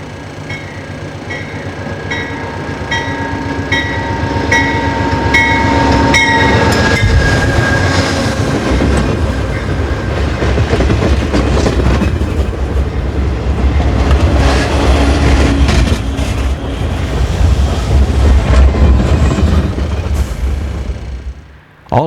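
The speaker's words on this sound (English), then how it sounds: "Number 353 is pulling out as it continues its journey from Pontiac" An Amtrak passenger train with Superliner cars pulls out in winter, loud with a long rumble, rhythmic wheel clatter and some high metallic squeal, close and steady throughout.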